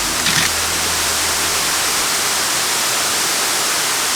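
Waterfall pouring with a constant, dense hiss of rushing water, loud and near, with no other sounds.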